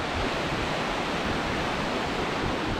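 The River Isla in Scotland rushes steadily, running high after a snow thaw, as a dense, loud, unbroken roar of flowing water heard close with no voices.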